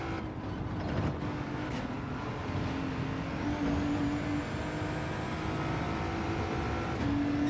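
A racing car engine in Gran Turismo 7 drones steadily throughout, with shifting revs and a whining tone that rises and falls, no voices over it.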